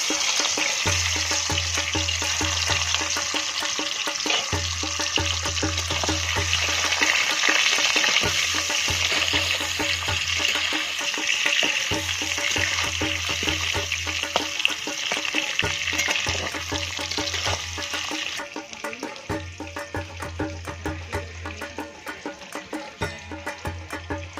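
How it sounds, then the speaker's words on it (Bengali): Peeled potatoes fry in very hot oil with a loud, steady sizzle and crackle, while low thumps repeat at a regular rhythm underneath, with no talk. "খোসা ছাড়ানো আলু এরপর ভেজে নেবো। তেলটা খুবই গরম হয়ে গেছে।"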